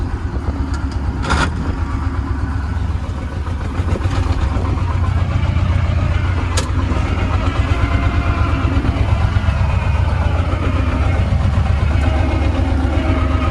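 A hay mower engine running steadily nearby outdoors, a continuous mid-pitched idling drone with a few sharp clanks and knocks over it, no voices.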